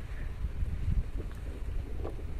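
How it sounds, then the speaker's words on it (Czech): Wind gusts outdoors at a supposedly haunted spot, a faint low rumbling buffet across the microphone with soft irregular swells, heard alone without speech. "To je vítr. To bude dělat vítr."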